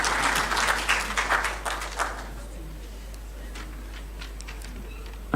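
Audience clapping in welcome at a formal state gathering at Jubilee House, a burst of applause for about two seconds that thins into scattered claps and fades, with a few isolated claps trailing near the end.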